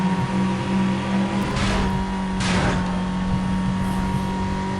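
Racing car engine from Need For Speed Most Wanted, a steady mid-level drone with brief revving swells, no talk over it.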